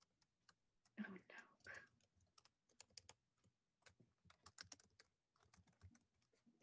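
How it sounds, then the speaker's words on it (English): Faint computer keyboard typing comes in uneven runs of soft clicks and taps, mixed with quiet whispery speech in a low-level indoor recording. "I thought Edmund was typing"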